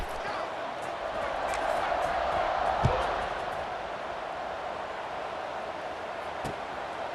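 Stadium crowd in the EA Sports College Football 26 video game before a UAB versus Mizzou kickoff, a steady broad roar of fans holding level throughout with a brief thump near the middle.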